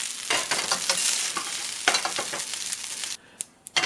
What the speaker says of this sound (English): I'm going to put my rice in here and then start the veggies